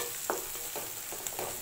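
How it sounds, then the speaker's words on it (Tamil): Grated ginger frying in oil in a pan for egg fried rice, a faint steady sizzle broken by a few brief stirring scrapes, close but quiet, with no voices. "இப்போ இஞ்சி, துருவிய இஞ்சி போட்டுக்கோங்க, பேஸ்ட் இல்லை, துருவிய இஞ்சி போட்டுக்கோங்க"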